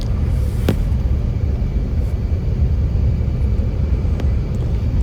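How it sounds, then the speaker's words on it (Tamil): Emirates EK343 airliner landing in Dubai after a flight from Kuala Lumpur, heard from inside the cabin as a steady, loud broadband roar and rumble with no talking. "லேண்டிங் வந்து அகெயின் நீங்கள் ராவி ஆடியோவில் கேளுங்க"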